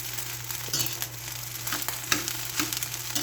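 Rice frying as sinangag with ginger powder gives a steady soft sizzle in a pan, with light scraping and stirring clicks scattered through, close and fairly quiet, no talking.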